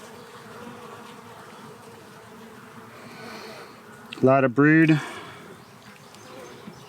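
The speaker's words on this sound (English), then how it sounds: "A lot of bees checking it out, like the back." Dense, steady buzzing of many bees close by around a hive frame, with someone briefly speaking over the hum.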